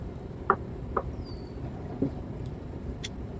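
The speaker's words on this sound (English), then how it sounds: "Listen to the birds." A few sparse bird chirps ring out over a steady outdoor background hum, spaced irregularly and moderately distant.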